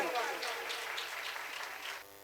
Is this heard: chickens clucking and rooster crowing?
no